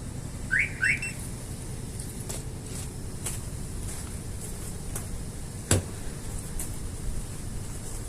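A StarLine B96 vehicle security system gives its disarm signal: two short rising chirps close together, followed by faint clicks and a sharper click amid a quiet background hum.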